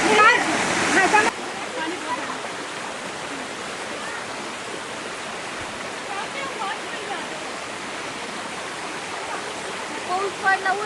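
Broadband rushing water of a waterfall runs steadily through the clip, loudest in the first second before settling into a constant roar, with people talking faintly over it.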